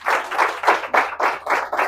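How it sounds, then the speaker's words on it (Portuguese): Rhythmic group clapping at a church service in Campo Limpo, about seven loud, evenly spaced claps in unison, close and clear with no talking over them. "Vamos aplaudir a Jesus."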